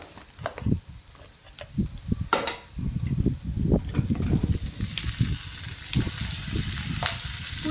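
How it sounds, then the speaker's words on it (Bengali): Potatoes and Malabar spinach sizzle in hot oil with fried onions and chilies, crackling steadily with irregular stirring scrapes up close and no talking. "শাক আলুগুলো দিয়ে দিয়েছি এগুলো ভালো করে ভেজে নেব পেঁয়াজের সাথে"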